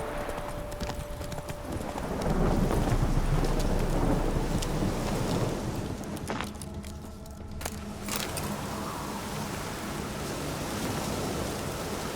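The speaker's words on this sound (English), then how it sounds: "The storm, damn it." Thunderstorm in the video game The Witcher 3, with steady rain and rolling thunder and a horse's hooves clip-clopping beneath, plus a sharp crack near the middle before the downpour continues.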